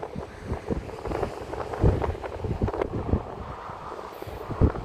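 Strong gusts of wind buffet the microphone aboard a boat on open water, a steady rushing roar with repeated low thumping bursts and no voices.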